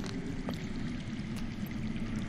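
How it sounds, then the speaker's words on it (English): In a Game of Thrones adventure game scene, underground water flows, a soft continuous pouring and trickling rush with a few faint clicks, heard fairly quietly and without talk. "I hear water. From underground."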